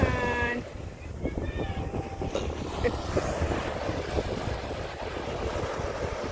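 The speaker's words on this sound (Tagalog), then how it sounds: "Diba ang ganda ng tunog ng alon?" Sea waves breaking on the shore at Repulse Bay beach in Hong Kong at high tide in strong wind: a steady, loud wash of surf and wind rumble, with a brief tonal blip early on.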